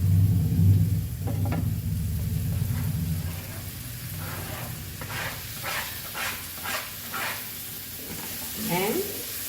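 Goan pork sausages sizzle and are stirred in a pan on a stove. A low rumble at the start gives way to steady frying hiss, broken by repeated scraping stir strokes close by.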